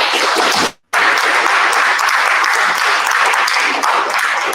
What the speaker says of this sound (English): let's give Anna another round of applause